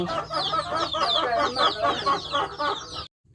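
Domestic chickens clucking steadily and close by in a Lao village yard, dense overlapping calls running for about three seconds before stopping abruptly.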